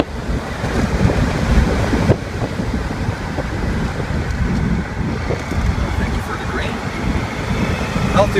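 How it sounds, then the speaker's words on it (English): Heavy wind buffets and roars past an open 1965 Corvette Roadster driven with the top down, a loud continuous rush with the engine beneath and someone speaking over it. "I'm not sure if you're hearing all this with all the wind going on"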